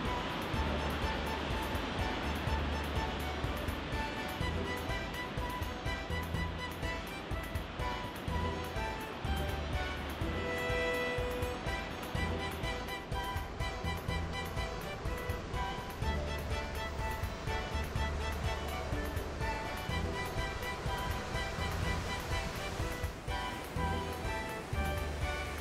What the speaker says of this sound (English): Waves dramatically crash against the rocks and cliffs, sometimes going high enough to soak the visitors above.